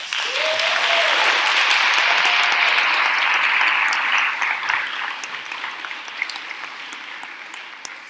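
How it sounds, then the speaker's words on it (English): Audience applause at a college talk on student voting, a dense, loud wash of clapping from a crowd that peaks early, then thins out and fades over several seconds. "Would y'all give them a round of applause?"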